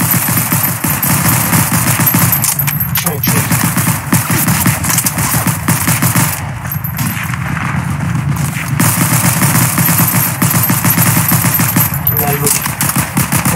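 Submachine gun fire in a World War II video game, continuous loud rapid bursts of automatic shots across the whole stretch, with a player talking in between.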